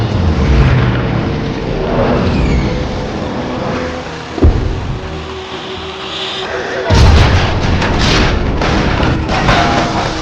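A heavy, booming explosion of a bomb striking the battleship Arizona at Pearl Harbor, with a deep thud midway, followed by rumbling and crackling blasts over a roaring, dramatic background.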